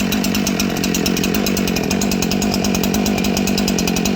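A new Husqvarna 372xp chainsaw held at full throttle while its high-speed carburetor side is tuned, a loud, continuous buzzing two-stroke scream with a fast, even pulse throughout.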